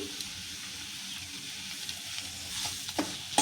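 Katikanag tuber vegetable being stir-fried with salt in a pan, a steady close sizzle with scraping stirs and a few sharper clinks near the end, no voices.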